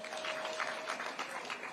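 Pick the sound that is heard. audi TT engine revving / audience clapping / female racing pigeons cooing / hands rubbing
audience clapping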